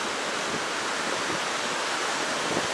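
Surf at Kalutara beach in Sri Lanka, a loud, constant wash of broadband noise from breaking waves, steady throughout with no voices.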